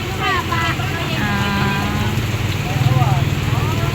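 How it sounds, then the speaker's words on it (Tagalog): A motorized tricycle carrying passengers through the rain hums with a low engine drone that swells toward the end, under near, overlapping voices of people talking aboard. "Yan po kami nakasakay na sa tricycle."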